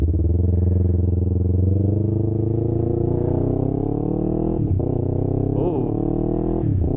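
A rebuilt Yamaha R3 motorcycle idles loudly up close with a steady, buzzing engine note that climbs gradually as it revs while the clutch is slowly released, with a few brief dips and bumps in pitch.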